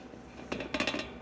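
Korean wheat flour and whole wheat go into a metal mixer bowl with a quick, faint run of clinks and scrapes, several soft knocks clustered in about a second in a quiet baking room.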